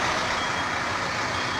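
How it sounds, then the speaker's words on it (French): Reversing alarm on supply trucks backing up to a paver hopper on an asphalt paving site, a loud steady beeping over diesel engine rumble, no voices. "On passe pas entre les camions d'alimentation qui reculent sur la trémie du finisseur"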